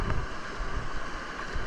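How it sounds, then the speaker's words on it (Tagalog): Big ocean waves crash and surge at the shore during a morning fishing session, a steady loud roar of water churning with rough wind buffeting the microphone throughout. "Grabe yung lalaki ng alon."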